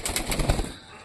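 Pigeons in a cage flutter and shuffle nearby, a few quick wing flaps and rustles in short bursts that fade toward the end.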